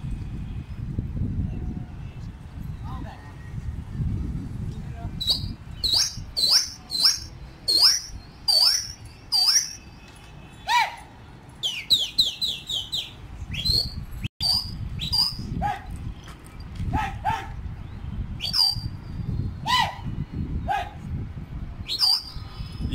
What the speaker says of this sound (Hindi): जी दोस्तों उठा दिए कबूतर।